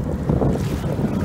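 A small boat's outboard motor runs at full throttle on deep water, moving only about three miles an hour; a steady low engine drone continues throughout, mixed with heavy wind buffeting on the microphone and water wash.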